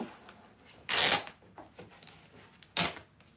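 Stitches are ripped out of a handmade picnic basket in two sharp, loud tearing bursts about two seconds apart, with quiet rustling and small clicks in between.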